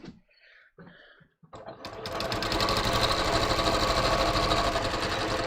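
A sewing machine stitches the side seams of a pair of knit pants, starting after a few soft sounds and a short bit of speech, then running steadily and loud with a fast, even mechanical rhythm for several seconds.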